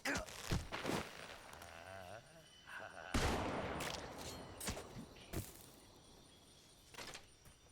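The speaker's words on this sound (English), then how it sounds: "I heard a gunshot, but from where?" Gunfire in the Metal Gear Solid Delta video game, several sharp cracking shots at irregular intervals over background noise, some loud and others quieter.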